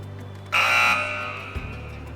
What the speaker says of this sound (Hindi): अब मैं बज़र एनेबल कर रहा हूँ